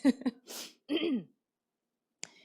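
A few short throat-clearing coughs up close, then a brief gap, a last harsher clearing, and silence followed by a faint click.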